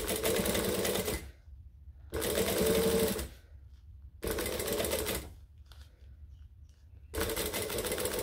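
A sewing machine stitches a bag in sections, running in four loud bursts of steady rapid whirring separated by near-silent pauses, close up with no talking.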